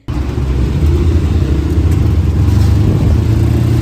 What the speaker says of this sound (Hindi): जो रक्शे वाले भाई थे उन्होंने बहुत स्पीड से रक्शा चलाया